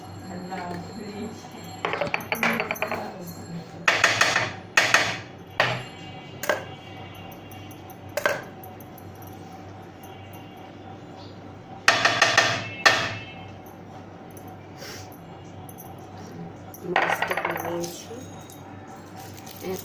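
Garlic and raw mango being ground on a stone pata slab, with clusters of sharp scraping and knocking strokes in bursts separated by quieter gaps, close by and under a steady background hum.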